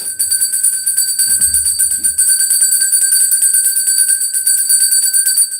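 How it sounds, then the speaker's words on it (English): A small bell rings loud and close, its bright metallic tone repeating in a fast, steady shimmer that holds for several seconds. "All right, Aries, I need to ring that bell."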